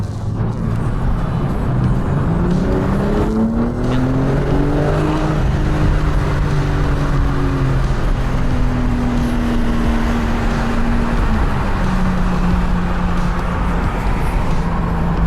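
A BMW M4 Competition fitted with downpipes is driven, its engine droning loudly from the cabin as revs rise and fall in long sweeps, with steady road noise underneath.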